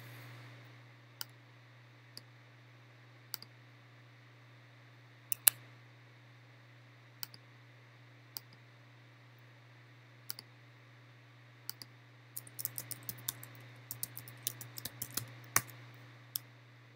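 A computer mouse clicks sparsely while the Shift key is held, faint single clicks spaced a second or two apart, then a denser patter of small taps near the end over a steady low electrical hum.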